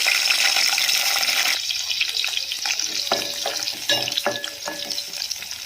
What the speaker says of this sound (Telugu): ఆయిల్ వేసుకొని పచ్చిమిర్చిని ఫ్రై చేసుకోవాలి